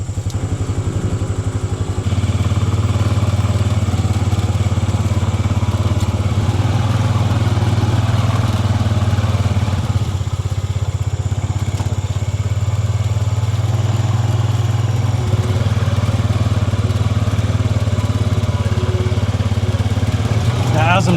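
A side-by-side UTV drives across a food plot while spraying herbicide. Its engine gives a steady, loud, low drone that holds throughout with a slight rise in pitch after the start, and faint clattering underneath.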